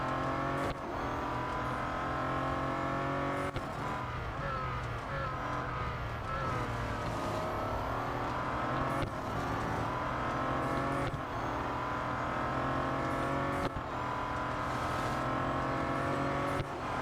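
A Bentley Continental GT Speed races in Real Racing 3, its engine droning steadily with rising and falling revs and abrupt shifts throughout, loud and continuous with no talk.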